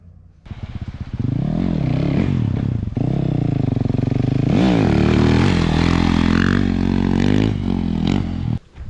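A Yamaha YZ450F dirt bike engine runs loud and close, idling roughly then revving up in several surges with rising and falling pitch, clattering mechanically throughout before cutting off at the end.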